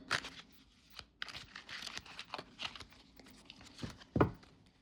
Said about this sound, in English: Let me shuffle up a little bit more here.